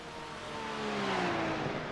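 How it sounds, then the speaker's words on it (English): A Porsche 992 GT3 R race car passes by at Mugello in a sim racing game, its engine note rising then sweeping down in pitch as it flies past, moderately loud and alone. "We'll listen to the lovely Porsche fly by."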